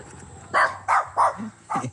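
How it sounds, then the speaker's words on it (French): Dog barking, four or five sharp barks spaced about a third of a second apart, close and loud, with a faint lower whine between them and no talking. "Ah, il y a un chien quand même."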